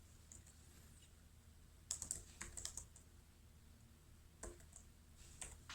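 Code being typed on a computer keyboard in short bursts of faint, quiet clicks with pauses between, alone with no talking.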